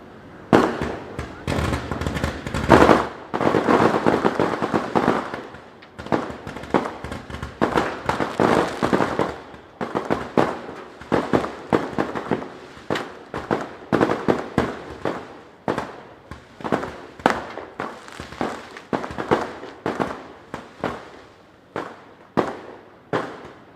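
Firecrackers bursting outdoors during a political rally, a long run of sharp close cracks and pops, dense and rapid at first then spacing into irregular bursts, with a crowd and voices mixed underneath.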